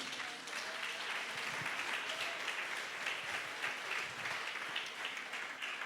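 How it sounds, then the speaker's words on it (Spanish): Church congregation at a Spanish-language sermon applauds for the Lord, a dense, even patter of many hands clapping that holds steady for several seconds at moderate distance, with no speech over it. "¿Alguien le da un aplauso al Señor?"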